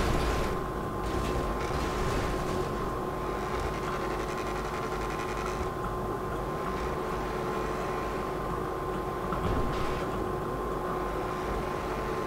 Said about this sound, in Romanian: Cum se aude motorul.